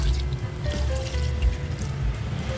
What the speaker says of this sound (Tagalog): At maglalagay din tayo syempre tubig.